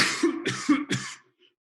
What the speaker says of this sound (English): Large cough, then coughing stops.